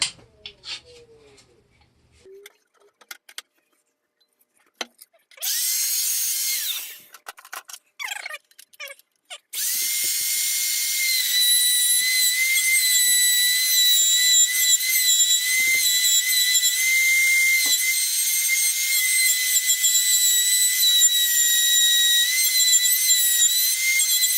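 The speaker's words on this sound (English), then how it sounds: "now with the router, we got a nice little recessed hole in here" A wood router cutting a recessed hole in pallet wood for a clock, with a few short bursts of high whine at first, then a loud, steady, piercing whine that runs on without a break.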